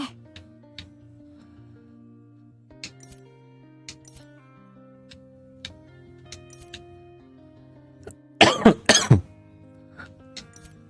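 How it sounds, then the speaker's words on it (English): A burst of harsh coughing breaks out near the end, loud and close, against a quiet background of soft clinks and tones. "I love my permanent cough."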